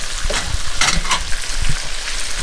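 Rosemary sautés in garlic butter in a cast iron pot, a loud close sizzle and crackle broken by short bursts as the herbs are stirred, with no talking over it.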